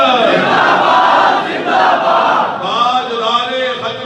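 Large crowd chanting slogans in unison at a religious rally, loud and continuous, with a leader's voice calling out and the mass of voices answering in rhythmic waves.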